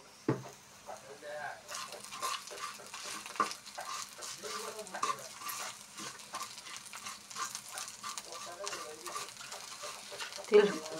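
Sesame seeds frying in a little oil while being stirred, a soft sizzle under repeated scraping and clinking strokes of a utensil in the pan, fairly quiet, with a louder clatter near the end.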